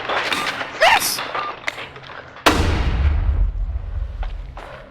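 A flashbang grenade detonates in a first-person video game: a sudden loud bang partway through with a long rumbling roar trailing off, preceded by voices and scattered clicks.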